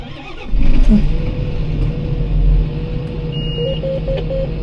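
A John Deere 7930 tractor diesel engine cranks and starts after injector replacement and valve adjustment, then settles into a steady close idle with a faint high-pitched beeping tone.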